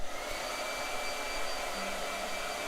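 A hair blow dryer runs steadily, a continuous broadband whoosh holding at a constant, fairly close level throughout with no talking.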